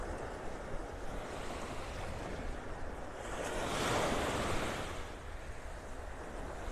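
Ocean surf rolling onto Vanderbilt Beach in North Naples, Florida, a steady wash of breaking waves with some wind noise, swelling louder for a moment near the middle, with no voices.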